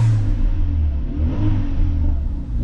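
A Renault Megane CUP 250's engine revs under throttle, a loud, steady, close rumble holding for a few seconds with slight surges and no voices.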